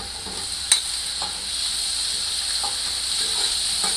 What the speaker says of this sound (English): now we'll add about a half cup of sliced onion